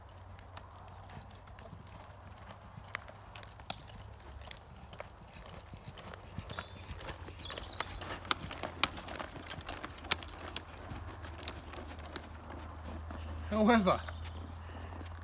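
A horse schooled for 17th-century cavalry riding walks with steady, close clip-clopping hooves and jingling tack while someone talks over it, ending in a short snort or whinny.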